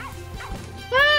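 A small dog barks in the farming video game Plantera, a couple of short yips followed by a brighter, louder bark near the end, amid light game sounds.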